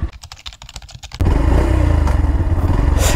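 A Yamaha FZS V4 motorcycle is set into first gear and ridden on a side road. A few sharp clicks come first, then a loud, close engine drone with a rapid pulsing rhythm holds steady to the end.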